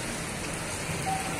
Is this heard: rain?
yes